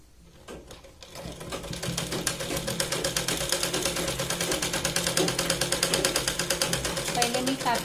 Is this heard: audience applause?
no